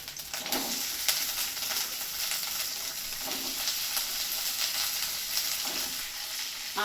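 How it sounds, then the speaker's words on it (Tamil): Onions sizzle steadily in hot oil, a constant crackling hiss broken by a few occasional stirring scrapes, while cooking an anchovy fish curry. "அப்புறம் வெங்காயம் போட போகிறோம்."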